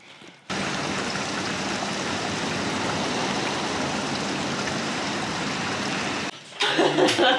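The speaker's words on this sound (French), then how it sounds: "Il pleut bergère." Rain falling as a steady broadband hiss that starts abruptly and runs for several seconds before cutting out, followed by a brief rustle.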